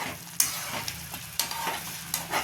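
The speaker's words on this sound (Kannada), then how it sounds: "ಅದನ್ನು ಚೆನ್ನಾಗಿ ಮಿಕ್ಸ್ ಮಾಡಬೇಕು" A thin, watery ground batter is mixed well by hand in a bowl, with soft wet stirring and squelching broken by a few sharper knocks against the vessel, close and fairly quiet.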